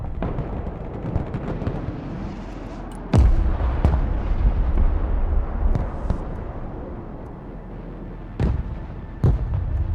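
Heavy artillery fire and explosions in a modern warfare real-time strategy game: a few loud booming blasts stand out over a constant rumbling battle din, with sharp crackling reports scattered throughout.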